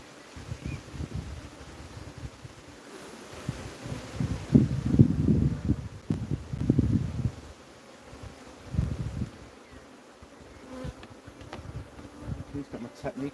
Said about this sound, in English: These bees are probably getting a bit annoyed as well.